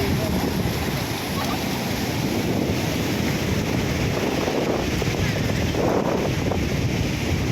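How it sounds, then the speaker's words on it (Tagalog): Continuous roar of surf and wind rushing across the microphone, steady and loud throughout, with heavy low rumble from waves breaking nearby. "lakas ng alon, oh."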